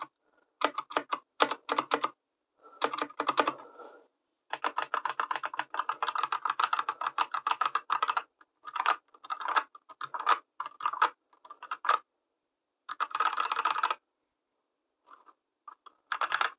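Typing on an Ann Pro II mechanical keyboard fitted with Gateron Red linear switches, steady bursts of close, clicky keystrokes in runs separated by short pauses.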